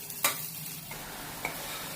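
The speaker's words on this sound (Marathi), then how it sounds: "डिंक आपण तळून घेत आहोत" Quiet sizzling of edible gum frying in ghee, with a couple of brief stirring scrapes and clinks; no talking.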